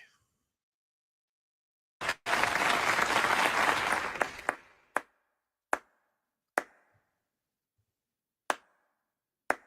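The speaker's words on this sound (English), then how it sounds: "put your hands together in a big old round of applause for my guest, Dr. Masque" A burst of applause for a guest, Dr. Masque, on a live online show: a short dense clapping sound lasting about two seconds, followed by several sharp isolated claps spaced apart.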